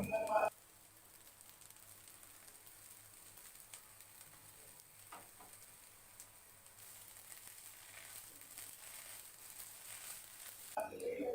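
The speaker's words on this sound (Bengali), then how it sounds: "এটা যত বেশি ভাজা যাবে তত বেশি স্বাদ হবে" Chopped chillies frying in a pan for a pointed gourd peel and egg mash, a faint continuous hiss with occasional stirring scrapes, quiet and steady.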